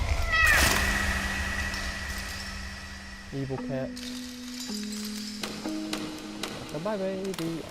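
A cat in the horror game Layers of Fear meows several times, an early high yowl followed by a series of shorter, clear tonal meows over a low hum, while a person talks intermittently.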